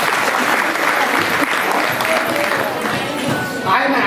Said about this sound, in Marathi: म्हणून तिच्यासाठी एकदा टाळ्या वाजवा.